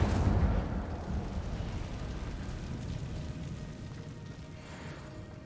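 A fiery Incendio spell from the video game Hogwarts Legacy erupts with a deep whooshing burst in a cave, loudest at the start and then fading into a low rumbling roar.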